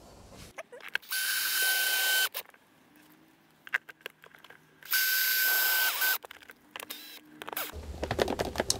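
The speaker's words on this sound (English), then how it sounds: "I'll go ahead and screw this one in." A cordless drill drives a screw into a mini split mounting clamp in two sustained whining bursts, with clicks and handling knocks between them and near the end.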